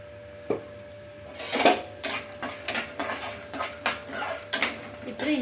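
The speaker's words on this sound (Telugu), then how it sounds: "పల్లీలు అయితే వేయించుకుంటున్నానండి" Peanuts dry-roast in a pan while a utensil stirs and scrapes them, making a run of rhythmic clattering scrapes and rattles close by after a quiet start.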